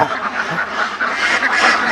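A dense, loud chorus of laying ducks on a duck farm quacks continuously and overlapping, filling the whole clip.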